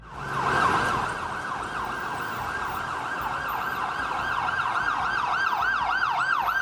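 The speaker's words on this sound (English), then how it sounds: "When you hear an ambulance go past, that isn't for you." An ambulance siren wails in a rapid, repeating up-and-down pattern, fairly close and loud, with road traffic rumbling underneath.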